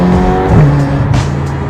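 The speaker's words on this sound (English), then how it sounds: "This car sounds beautiful. I'm not sure how much of it you can hear, but let me just speed up very briefly." A Ferrari California T accelerates from inside the cabin, its engine rising as a loud, steady tone through a brief full-throttle pull, with no talking.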